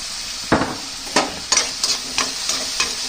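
Tomatoes with a pinch of sugar cooking in a pan, a continuous sizzle under a series of sharp, evenly spaced spatula stirs and scrapes, close and loud with no talking.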